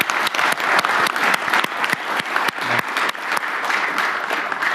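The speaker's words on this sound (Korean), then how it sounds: "우리 참여해 주신 분들한테 감사의 박수를 한번." Sustained applause fills a Korean cabinet meeting room, dense and steady clapping from many hands for donors after a record fundraising total, with no talking over it.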